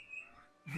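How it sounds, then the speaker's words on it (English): A bird chirps briefly and faintly outside a window in Tales of Arise, a single thin high call, followed by a louder muffled rustle. "Can you hear the bird outside?"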